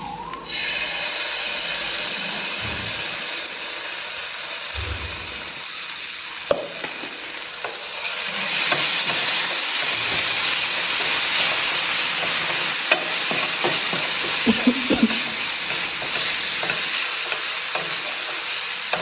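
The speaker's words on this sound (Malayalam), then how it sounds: "നമുക്ക് നല്ലോണം മിക്സ് ചെയ്ത് കൊടുക്കാം. ഇതിലേക്ക് നമ്മുടെ ടൊമാറ്റോ കെച്ചപ്പ് ഒഴിച്ച് കൊടുക്കുക." Bread being prepared for a red-colour food challenge, stirred in a frying pan with tomato ketchup, giving a steady loud sizzle with scraping stirring strokes and a few spoon knocks, no talking.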